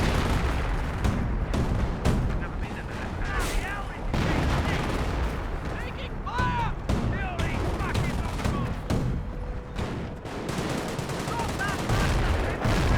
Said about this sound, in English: 25-pounder barrage.